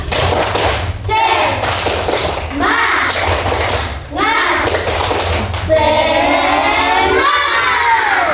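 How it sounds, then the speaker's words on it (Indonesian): A school class does a rhythmic spirit clap as an ice breaker, children clapping in patterned bursts together with chanting voices, loud and close in a classroom. "Ice breaking dulu ya. Tepuk semangat."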